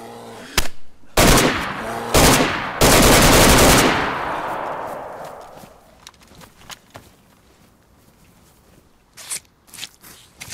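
An M4 rifle firing at a bear in DayZ: a single shot, then several loud sustained automatic bursts close by, tailing off into quieter clicks, shuffling and a few late distant shots.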